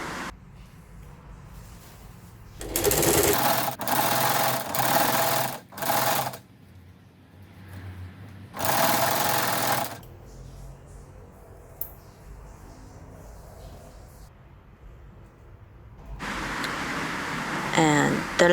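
A home sewing machine stitches a fabric drawer organizer in several short, loud bursts separated by pauses, with a final burst near the end and quiet handling in between.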